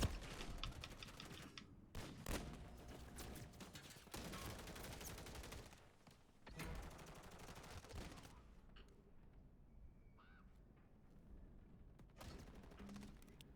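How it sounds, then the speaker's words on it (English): Rapid bursts of automatic gunfire in a shooter game come in loud clusters broken by short pauses, then thin out to quieter ambient sounds toward the end. "someone's shooting at me"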